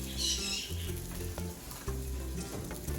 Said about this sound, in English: I'm just gonna pour it in that hot skillet. And you hear the sizzle